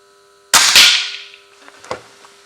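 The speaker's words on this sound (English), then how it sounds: "10 shots using an Air Arms Pro Sport in 22 calibre with washed and lubed FX 16 grain pellets from a bench rest" A single air rifle shot from an Air Arms Pro Sport in .22 calibre, firing washed and lubed FX 16 grain pellets from a bench rest: a sharp, loud crack with a brief ringing tail, then faint handling clicks.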